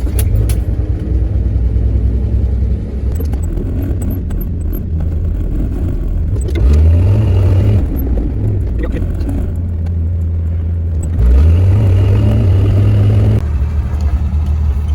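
A 1966 Dodge Dart GT, warm-started, drives with a steady loud engine rumble and road noise, rising twice in pitch as it accelerates through the gears.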